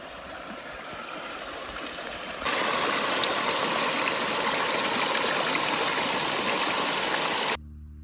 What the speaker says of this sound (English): The water's really running today.